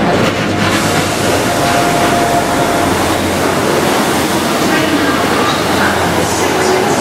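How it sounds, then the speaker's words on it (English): A train rolls into Cardiff Central station with a loud, continuous rumbling wash of wheel and engine noise, close and steady throughout. "Right, this is our train now."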